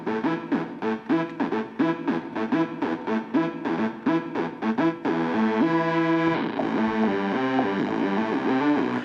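Synth patch on an ER-301 module with a Freeverb reverb effect, rhythmic pulsing notes giving way to sustained, washed-out chords with a lingering tail, loud and alone.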